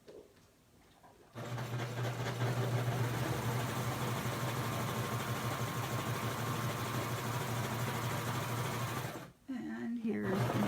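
A home sewing machine stitching the hem of a T-shirt dress, running in one steady, loud whirring hum for about eight seconds before stopping, with only quiet room sound before and after.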